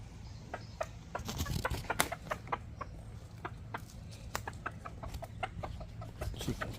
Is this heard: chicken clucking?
yes